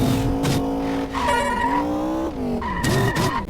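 A car in the Indian Theft Auto video game races at high speed under full nitro boost, its engine roaring loudly and continuously with shifting pitch and tyre squeals, up close and alone.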